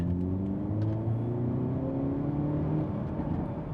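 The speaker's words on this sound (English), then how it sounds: "I hope you can hear that exhaust popping." A 2024 Hyundai Elantra N with a six-speed manual, in N mode, pulls hard in second gear. The engine note climbs loud and close and rises steadily in pitch, with faint crackles from the exhaust.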